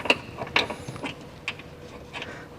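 Quiet, irregular metallic clicks and ratcheting as a wrench works an engine mount bolt loose on a Kia Sedona, a handful of sharp ticks.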